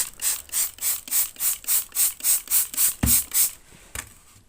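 A stiff brush scrubbing grime off Т-40 tractor engine parts, about a dozen loud, close, evenly spaced strokes in a steady rhythm, ending with a couple of lighter scrapes.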